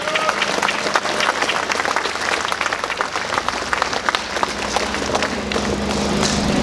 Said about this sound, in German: Dann herzlichen Applaus